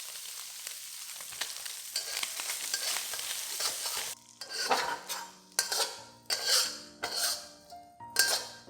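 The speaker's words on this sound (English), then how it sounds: "Spread the luncheon meat out in one layer at the bottom of the pan" SPAM luncheon meat slices spread in one layer in a pan, frying and lightly browning beside potato for a stir fry; a steady sizzle, then louder bursts of spatula scrapes and metal clinks against the pan.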